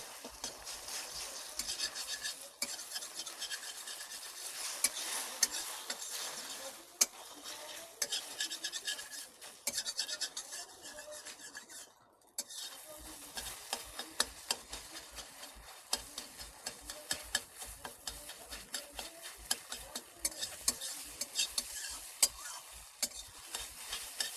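Eggs frying in a pan for bhujia are stirred and broken up, producing a continuous close sizzle with rapid scraping and tapping of a utensil, a short lull in the middle, then steady stirring again.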